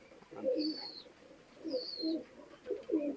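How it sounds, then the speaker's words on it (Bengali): Golden pigeons coo softly nearby in a few low, rounded bursts, with a thin high chirp from another bird between them. "এটা গোল্ডেন কবুতর ভাই, গলার চট, কানের ফুল সব দিক থেকে আছে ভাই"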